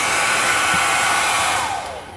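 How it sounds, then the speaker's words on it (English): A hair dryer blows loudly and steadily up close, melting a refrigerator ice tray frozen solid with ice, its motor whine winding down near the end. "I've had to resort to a hairdryer to get this thing out."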